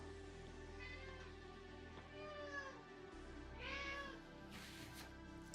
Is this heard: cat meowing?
yes